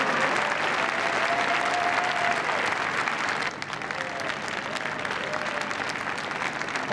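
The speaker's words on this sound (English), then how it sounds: "Give her a big round of applause, she leaves the arena." Audience applause fills the arena at the Crufts dog show during a heelwork to music competition, loud sustained clapping running through with brief whistles and cheers, dipping slightly midway then continuing strongly.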